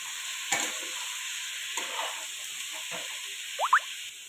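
Green beans are tipped into hot oil in a pan and stirred, with a few scattered scrapes over a soft steady sizzle, plus two short squeaky scrapes near the end.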